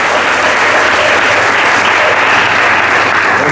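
Steady, dense applause from a crowd fills the whole stretch, loud and sustained without a break.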